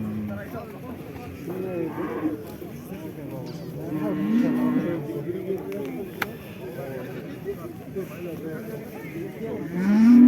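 Cattle and young bullocks moo at a livestock market in Karakol, with several drawn-out lows rising over the murmur of traders talking nearby.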